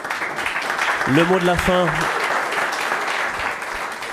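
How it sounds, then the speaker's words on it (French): Steady applause from an audience at a mobility conference evening, many hands clapping continuously while someone briefly speaks over it. "On peut vous applaudir."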